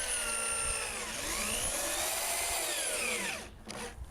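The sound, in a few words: power drill driving deck screws into wood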